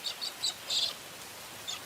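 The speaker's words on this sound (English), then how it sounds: "And cockatiels celebrate with a rain dance." Cockatiels in the Australian outback give a few short, high chirping calls, four or five brief bursts spaced unevenly over a faint background hiss of rain.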